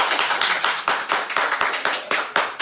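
Audience at a live relationship talk show in Grand Blanc, Michigan clapping hands in a round of about a dozen distinct, fairly loud claps with a steady, slightly uneven rhythm.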